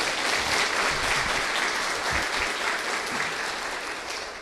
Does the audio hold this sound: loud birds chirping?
no